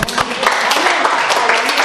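A church congregation at a Wednesday Bible study breaks into dense, steady applause that fills the room, with a faint murmur of voices mixed in beneath the clapping.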